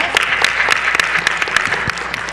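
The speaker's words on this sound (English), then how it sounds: "applause" Audience applause fills a conference hall celebrating sisterhood, a dense, steady run of many hands clapping close and loud, without pauses.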